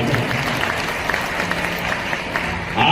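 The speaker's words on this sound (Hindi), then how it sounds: "जरा मोदी के लिए जोरदार तालियां और अभिनंदन होना।" A large crowd at a BJP political rally in India applauding, a dense, continuous roar of clapping that holds steady and swells louder near the end, with faint voices mixed in.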